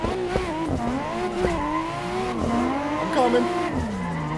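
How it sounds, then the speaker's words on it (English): A Nissan Skyline R32 in Assetto Corsa drifts online with a wavering engine whine and sliding tire squeal, pitch rising and falling continuously, while someone talks over it. "We're speed drifting today."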